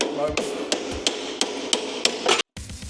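Hammer tapping on the axle of a military Series 3 Land Rover during a rear chassis repair, about eight sharp metallic blows at a steady pace, loud and close, ending in a brief silence.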